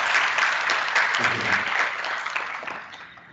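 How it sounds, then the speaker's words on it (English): Audience applause at the inaugural session of an IEEE YESIST12 grand finale event, a steady wash of many hands clapping that holds loud for about three seconds, then fades away toward the end. "please give a big round of applause to these volunteers"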